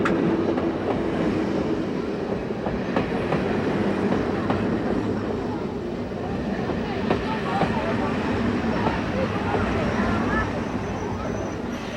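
Continuous rumble and clatter of a train rolling along the rails as it arrives at a station in China's Tian Shan foothills, with murmuring voices in the background throughout.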